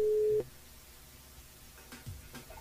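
A telephone line tone during a call back to a listener on a live radio show: one steady mid-pitched beep lasting under half a second at the start, followed by a quiet, near-silent line.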